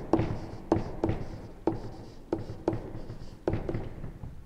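Pen or pencil writing a number by hand in a school workbook, a series of close, distinct taps and short scratchy strokes in an uneven rhythm, with no talk.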